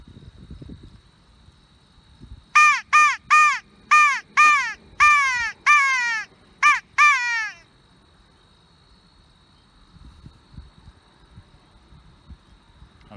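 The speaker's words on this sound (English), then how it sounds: "Two crows right at the top of that tree over there." Two crows high in a treetop give about eight loud, harsh caws in a quick series that fills the middle of the stretch, with quiet outdoor background before and after.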